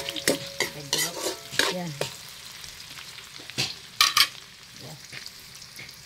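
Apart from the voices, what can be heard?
onion and garlic sautéing in a pan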